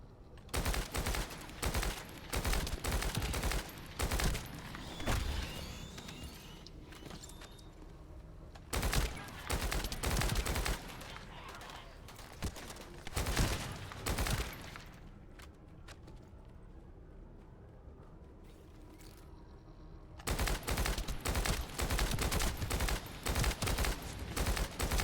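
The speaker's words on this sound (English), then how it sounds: "Here's the shotgun." A shotgun fires in a video game: dense bursts of loud, rapid blasts in repeated volleys, with a quieter stretch in the middle before the firing resumes hard at the end.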